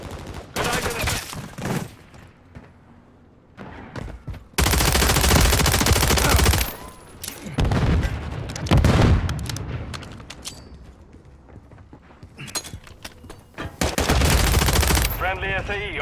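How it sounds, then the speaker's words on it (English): A remote turret and other weapons fire in the video game Modern Warfare 3, heavy bursts of automatic gunfire with booming shots, loud and close, coming in clustered waves separated by quieter gaps. "Friendly remote turret active."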